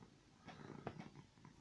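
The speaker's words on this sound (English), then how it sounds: "it's Billy the cat" A cat purrs softly close up, a faint low rumbling with a few small rhythmic swells and bumps, very quiet and alone.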